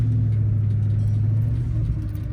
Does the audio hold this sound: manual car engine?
yes